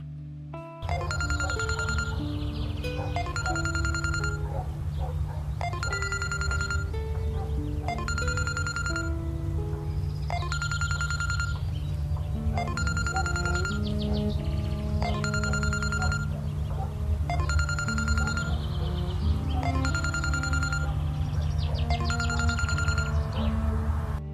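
A telephone rings again and again in a steady repeating pattern, with no pause for an answer, over a constant low hum.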